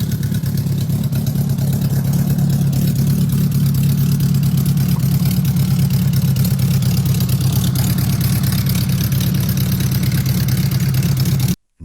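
A vintage touring motorcycle engine idles steadily and close by, its low, even rumble running unbroken for about twelve seconds before cutting off abruptly.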